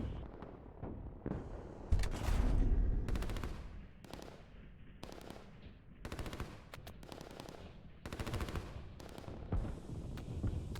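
Gunfire as commandos attack artillery positions in a strategy video game, made up of repeated bursts of rapid machine-gun fire with heavy booming impacts. The bursts come in irregular clusters separated by short lulls, fairly close and steady, with no voices.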